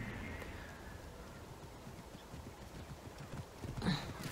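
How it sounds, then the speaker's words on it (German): A rare horse in Assassin's Creed: The Curse of the Pharaohs gallops with a steady, soft clip-clop of hooves under faint game ambience, with a brief louder burst near the end. "Das Pferd habe ich auch bei einer Mission bekommen."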